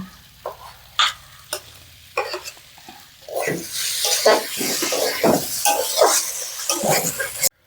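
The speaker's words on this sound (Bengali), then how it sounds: "ডাকা আলুগুলো ভেজে নিয়েছি, এবার ওই গলিয়ে রাখা আলুটা দিয়ে দেবো।" Potatoes fry in a pan while being stirred, with scattered scrapes at first and then a steady loud sizzle and repeated scraping strokes.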